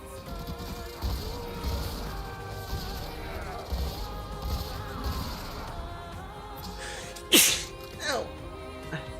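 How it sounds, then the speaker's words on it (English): A single sharp sneeze bursts out near the end, followed by a smaller second burst, over continuous game music and effects from Warframe. "I hate sneezing."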